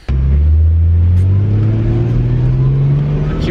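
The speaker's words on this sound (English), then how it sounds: "I'm gonna get myself in trouble driving cars like this" A Nissan Z car's engine revs up and accelerates, its rising hum loud and close throughout, with a low rumble underneath.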